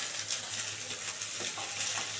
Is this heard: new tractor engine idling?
no